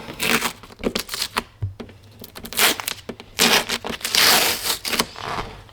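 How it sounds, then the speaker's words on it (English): Tape peeled off a car's body around a badge while the logo is being swapped from silver to black: a series of ripping, crinkling tears in uneven bursts, close and fairly loud, with no talk. "we're gonna remove all our tape"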